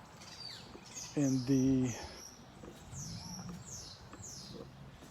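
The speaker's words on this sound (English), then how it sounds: "You can hear the birds going too, by the way." Birds sing and chirp in a garden with climbing hydrangea vines, as several bright, repeated calls come and go at moderate distance, along with a brief louder low call and a few quiet spoken words.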